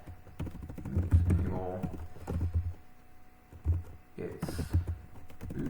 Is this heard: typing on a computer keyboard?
yes